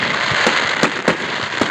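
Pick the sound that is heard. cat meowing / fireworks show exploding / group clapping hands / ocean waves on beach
fireworks show exploding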